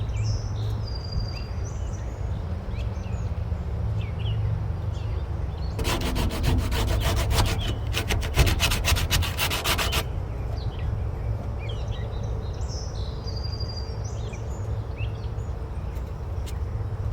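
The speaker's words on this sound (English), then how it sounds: "I was just sanding down the spots where I couldn't access with the feather edger" Steady hand sanding rasps on a Camaro's car body in a dense burst for a few seconds, over constant background hum with faint birds chirping around it.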